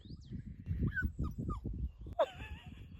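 Close by, dogs whimper in a series of short, high-pitched whines, with light rustling and shuffling underneath.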